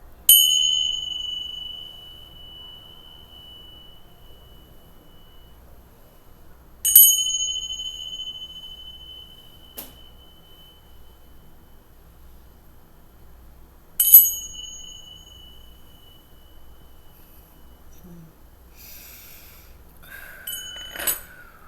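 A bright bell rings three times at even intervals, each strike clear and sustained before fading into near silence, with a faint jingle near the end.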